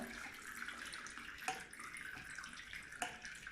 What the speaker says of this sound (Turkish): Şu suyu aç. Evet çok güzel akıyor.